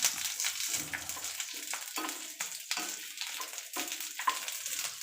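Green chillies frying in a couple of spoons of oil, a soft steady sizzle broken by repeated scraping stirs in a rhythmic pattern, fairly close and quiet.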